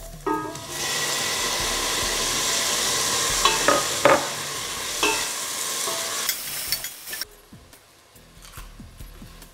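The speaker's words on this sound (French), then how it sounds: "C'est très important que les oignons rissolent bien et deviennent translucides." Onions and chili fry in homemade ghee for a vegetable biryani, a loud continuous sizzle broken by several sharp scrapes and knocks of a spoon stirring the pan, then the sizzle drops away to quieter clinks near the end.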